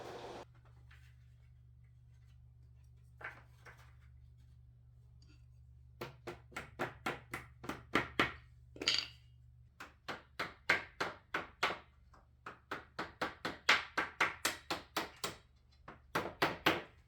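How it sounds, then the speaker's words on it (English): Wooden dowels being tapped into drilled holes while building a clothing hanger: many sharp, close, hollow wooden knocks in quick rhythmic bursts, fairly quiet, with no talking. "I'm just going to go around and put these dowels in all of the holes that I drilled"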